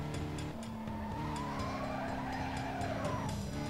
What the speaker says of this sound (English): drifting pretty well here